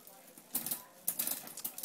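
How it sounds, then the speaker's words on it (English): Bicycle chain with a misadjusted derailleur rattles and ticks against the sprocket in two bursts of dry, rapid metallic clicking, close up, with quieter chatter in between. "You can hear the chain wanting to move."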